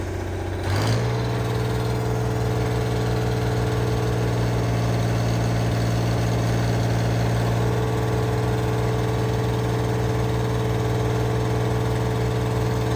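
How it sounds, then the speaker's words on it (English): An engine with a bad injector idles roughly and loudly up close, a continuous uneven rumble that starts with a brief rise in pitch before settling into a steady, slightly lumpy drone. "I think that thing's got a bad injector. It cleans up after it runs for a while."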